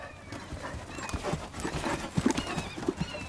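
A horse canters during a riding lesson, its hoofbeats thudding in a steady rolling rhythm, close and moderately loud, with a few snorts and breaths mixed in.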